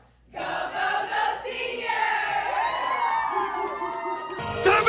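A crowd of students yelling and cheering at a school pep rally, bursting in after a brief silence and building into sustained loud whoops and shouts with excited voices rising and falling.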